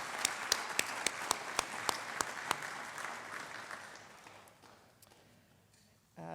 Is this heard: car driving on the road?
no